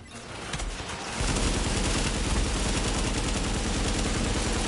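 Gunfire from The Division video game rattles loudly and continuously: dense, overlapping automatic bursts that swell after the first second and keep going without a break.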